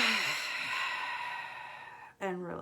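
One deep, slow breath drawn in and let out during a guided relaxation exercise, a soft airy rush that fades, followed by a brief voiced sigh-like exhale close to the mic.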